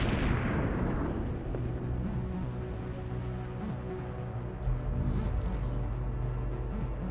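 Space battle in Endless Space 2 with missiles launching and explosions, a continuous loud rumbling barrage of booms and bursts with no pause, thick low-end roar throughout.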